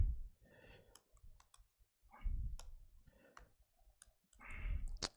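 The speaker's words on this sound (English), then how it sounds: "you're seeing a man typing and not very fast" Sparse keyboard clicks from someone typing slowly during a live coding session, faint and irregular, with soft low thumps and bursts of background noise between keystrokes.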